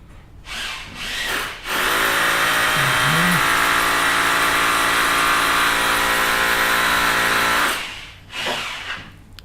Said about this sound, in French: On a la perceuse qui nous accompagne, ça fait longtemps qu'on n'avait pas eu.